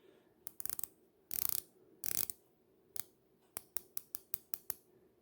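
Crisp ratcheting clicks from a unidirectional dive-watch bezel on an NTH Nazario Sauro, first in fast rasping runs, then as a string of single evenly spaced clicks, very close and isolated.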